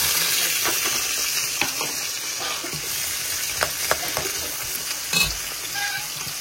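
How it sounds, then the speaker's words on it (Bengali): Garlic and onion frying in hot oil, a loud continuous sizzle with intermittent stirring scrapes and clinks throughout, no talk. "অয়েলও গরম হয়ে গেছে। গার্লিক অনিয়ন দিলাম"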